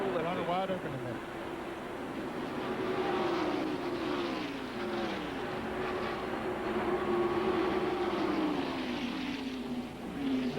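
Stock cars from the 1991 NASCAR Winston Cup Winston 500 race flat out in a drafting pack, a continuous loud engine roar with rising and falling tones from cars passing close, steady throughout with no break in the drone.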